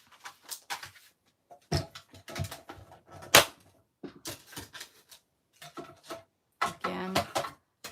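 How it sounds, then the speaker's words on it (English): A Stampin' Up Stamp Cut and Emboss machine cranks paper through a die, giving bursts of small clicking, ratcheting taps separated by short quiet gaps, close and fairly soft. "All right, let's die cut this"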